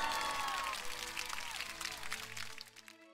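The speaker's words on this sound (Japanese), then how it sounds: "茶太郎さんと中の人選手にもう一度大きな拍手をお願いいたします" An audience claps for the winners of a soft equestrian competition event while an announcer's voice rings over the start, the applause a dense patter that thins and fades toward the end.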